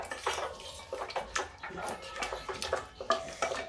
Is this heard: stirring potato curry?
yes